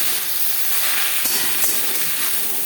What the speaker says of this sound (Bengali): সবার প্রথমে পাট শাক ভেজে নেব।